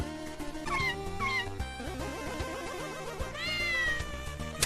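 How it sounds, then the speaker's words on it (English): Several cartoonish cat meows ring out over bouncy game music in a Make a Good Mega Man level, with a plucky melody running underneath the rising and falling calls. "Cats."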